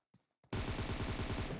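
Gunfire in PUBG Mobile, a few faint clicks and then a loud, sustained burst of rapid automatic shots, close and alone without talk.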